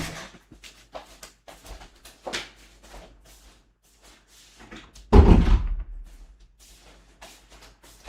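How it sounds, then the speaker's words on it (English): A door is shut with one loud, close thud midway, preceded and followed by softer scattered knocks and handling taps in a quiet room. "I'm gonna just close the doors."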